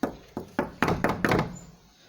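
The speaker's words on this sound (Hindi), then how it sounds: "ये आवाज़ दरवाज़ा नॉक होने की थी जिसने सबको स्केयर कर दिया था।" Someone knocks on a door in an animated horror story set at a mountain house party: six solid knocks with quick rhythm, heavy and close, the last ones louder and bunched together.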